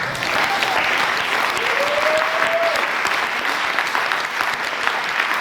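A church congregation claps steadily and densely throughout, with a faint sustained tone rising briefly over the crowd noise.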